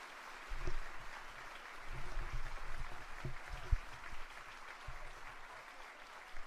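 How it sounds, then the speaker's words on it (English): Sparse video game crowd clapping in Madden 26 at moderate level, a steady patter with a few louder bursts, continuing throughout without voices. "Well, at least they're clapping."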